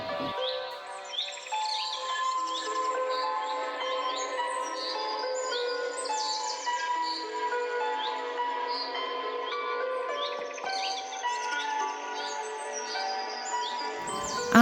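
Birds sing and chirp together in Amchang wildlife sanctuary among rows of tea bushes, a continuous layered chorus of whistles and quick tweets at moderate distance, with no voices.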